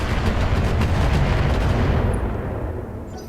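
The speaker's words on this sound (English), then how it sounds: "Yep, there goes the LRM turret." A long turret in the Battletech video game is blown apart by a loud, dense roar of gunfire and explosions that fades over the final second, with no talking.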